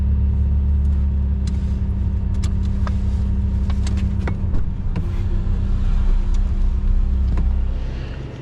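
A 360 hp Lotus Emira i4 drives on a race track, heard as a steady, loud engine drone and cabin rumble with scattered clicks and knocks, easing off slightly toward the end.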